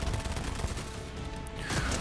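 Gunfire in the video game Fortnite: rapid bursts of automatic shots crackle through a dense, busy game mix at moderate level, with a brief lull near the middle before the firing picks up again.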